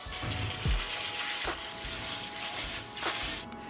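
Azuki beans being washed in water for zenzai, with steady broadband rushing and swishing water and a few brief splashes. No one speaks.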